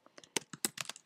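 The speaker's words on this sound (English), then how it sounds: "you can just start typing your words" Quick keystrokes on a computer keyboard make about a dozen sharp, close clicks in an uneven rhythm, alone with no talking.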